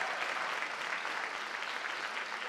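Dense, even applause from an audience at a school district awards ceremony fills the room without pause, steady and fairly loud throughout.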